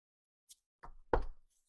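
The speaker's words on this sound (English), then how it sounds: "you're gonna want to knock the side of your deck 3 times" Knuckles rapping the side of a tarot card deck, a faint tap followed by two quick dull knocks close to the microphone, alone in a quiet room.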